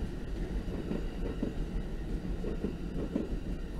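An Amtrak train rumbles past at a distance, a low steady roar with faint rhythmic clacking of wheels on rails.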